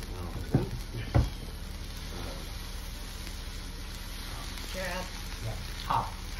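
Monjayaki sizzles steadily on a hot griddle while being stirred and scraped with a few sharp clinks, and people talk quietly over the soft, constant frying hiss.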